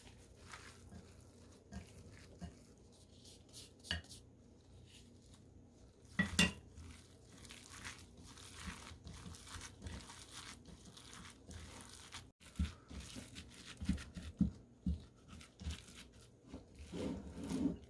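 A gloved hand works ground pork filling with shiitake and wood ear mushrooms and black pepper in a bowl, making close, wet squelching and rubbing sounds with scattered knocks against the dish.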